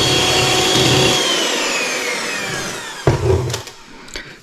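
Electric hand mixer whirring steadily while mixing marzipan dough for keto stollen bites, a continuous motor whine that slowly drops in pitch, then stops and restarts in short bursts near the end.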